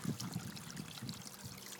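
Water trickling and splashing over rocks in a small DIY garden fountain, a steady soft babble of flowing water with no talk.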